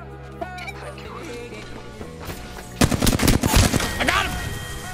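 Rapid automatic gunfire in the Apex Legends video game rattles in loud bursts, following quieter game sounds and a voice in the background.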